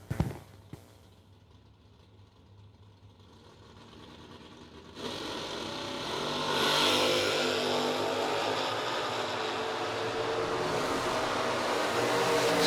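Drag racing cars launch down a drag strip at the New Year Nationals, one a Bad Mamba Jamba grocery getter; after about five quiet seconds, a loud, sustained engine roar builds and holds close by.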